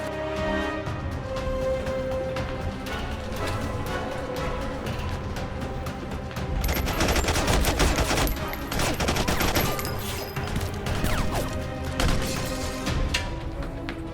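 Gunfire in a French zombie horror film: volleys of rapid shots and machine-gun bursts over a tense score, growing denser and louder midway with scattered crashes.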